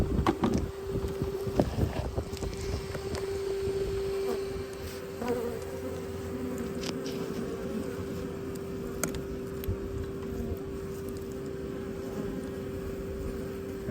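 Bees buzz steadily and loudly all around during a bee removal, a dense continuous drone with a sustained tone, occasional knocks and rustling handling noises, no talk.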